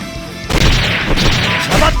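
Heavy punch impacts in the action game Closers, a dense series of booming, crashing hits layered over game effects and music, loud throughout.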